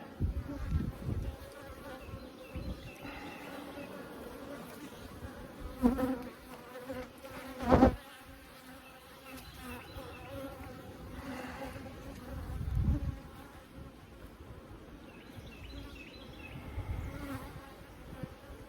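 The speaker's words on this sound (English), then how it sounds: "There's a bee emerging right there." Honeybees buzzing softly around an open Layens hive during a spring inspection, a low continuous hum with occasional louder passes and handling bumps.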